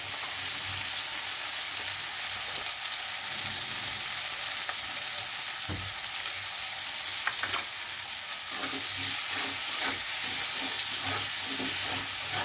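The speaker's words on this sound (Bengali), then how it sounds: "ভালো করে নাড়াচাড়া করে ভাজতে হবে।" Tomato frying with salt in a pan while being stirred, a steady close sizzle with bursts of spatula scraping and clatter throughout, strongest toward the end, no voices.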